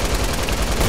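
Dense, loud gunfire from the Fortnite video game, a rapid, continuous barrage of shots filling the whole moment with no voices over it.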